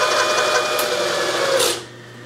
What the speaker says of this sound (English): I'm just raising the knee in order to get my depth